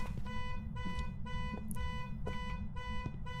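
A car alarm in the horror video game Phasmophobia blares as a steady run of evenly spaced electronic tones, looping several times in a clear rhythm with a low rumble beneath.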